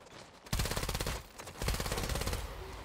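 Rapid automatic gunfire from Bloodhunt fires in two dense bursts, loud and close, with a short lull between them and a fading tail at the end.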